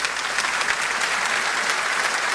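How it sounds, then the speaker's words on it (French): An audience at a religious gathering applauds a man named André: continuous, dense clapping from many hands at even loudness, with no voices above it. "Applaudissez André"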